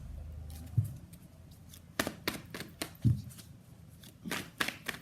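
Tarot cards are shuffled and pulled by hand in a quiet room, with several crisp riffling bursts and soft slides of the cards, close and fairly faint.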